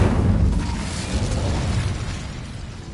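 A fire spell cast in a Harry Potter video game while exploring a goblin mine bursts out as a loud, rumbling blast that swells at once and then rolls on as a steady roaring whoosh, alone without talk.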